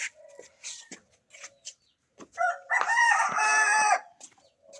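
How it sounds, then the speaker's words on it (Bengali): Chickens cluck in the early morning outside a village house, a scattered series of short close clucks building into a louder, sustained burst of squawking calls, with no talk over them. "মুরগি ট্যাক ট্যাক ট্যাক ট্যাক করতেছে।"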